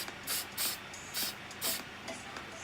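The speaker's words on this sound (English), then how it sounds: "I'm trying not to spray too much around the other areas." Micador fixative sprayed from a can onto a pastel portrait: about five short, soft aerosol hisses in uneven bursts, close but quiet.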